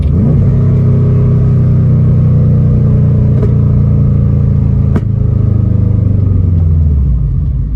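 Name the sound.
car exhaust pops on deceleration after burble tune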